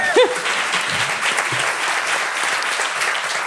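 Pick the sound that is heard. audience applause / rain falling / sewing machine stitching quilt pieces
audience applause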